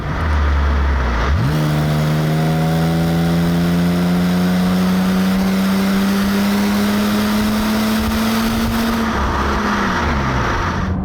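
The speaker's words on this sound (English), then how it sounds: "You can manually force it into gear, although I'm not sure how keen I am to do that." A 1985 Opel Monza GSE engine, its automatic gearbox forced into gear manually, revs up and holds a long, loud, rising drone, then drops back at the end.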